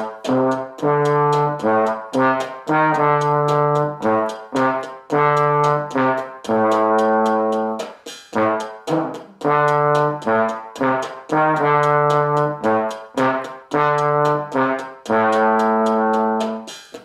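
A rock riff played on a solo trombone: repeated phrases of short and sustained brass notes with clear gaps between them, loud and close, no voices.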